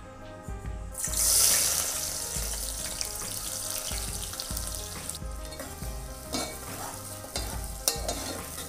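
Thinly sliced onions dropped into hot oil for a coconut mutton curry: a loud burst of sizzling at the start, then steady frying with stirring clatter and scrapes, close by.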